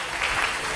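Short burst of audience applause at a church sermon, a steady wash of clapping at moderate distance with no speech over it.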